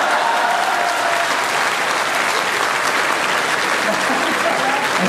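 A crowd at Dinesh Bawra's Hindi comedy performance claps loudly and continuously, a thick, even roar of applause sustained from start to finish.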